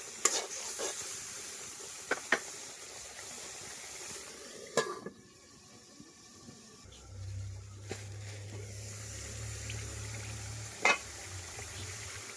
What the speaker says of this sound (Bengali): মশলাটাকে এখন কষিয়ে নেব কিছুক্ষণ।